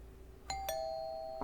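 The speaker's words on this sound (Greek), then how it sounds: "Χτυπάει το κουδούνι, ναι." A two-tone ding-dong doorbell rings inside a house in the horror video game Fears to Fathom - Home Alone, clear and moderately loud against a quiet room, with a brief noise at the end.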